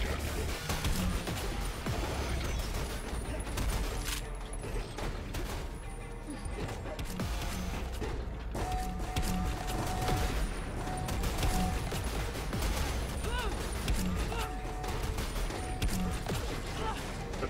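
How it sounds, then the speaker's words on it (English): Shotgun fire in the video game SPRAWL sounds as rapid, dense bursts of gunshots and crashes under constant loud game action and music, with a voice talking over it. "Are you shooting a shotgun at me?"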